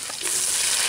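Green chillies dropped into hot coconut oil in a pan for pork fry, giving a brief steady hiss of sizzling that rises after a soft start, close and alone.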